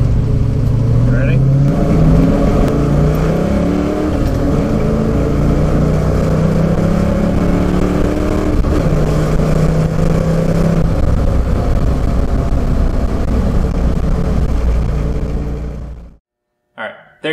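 A car, its toe just reset for street driving and autocross, accelerates hard up an interstate on-ramp. The engine note climbs loud and close through rising gears for about sixteen seconds, then cuts off abruptly.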